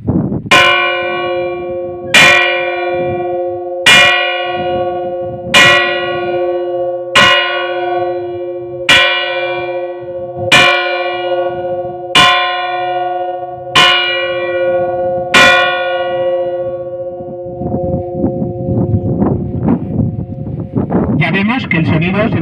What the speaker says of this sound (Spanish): Está afinada en fa y vamos a escuchar su toque mediante 10 toques